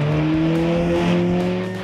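Škoda 120S rally car in period trim, about 80 horsepower on sporty tires, sliding at an autumn rally meet in Běšiny, with a loud, steady, close-up howl of engine and tires that holds the whole time.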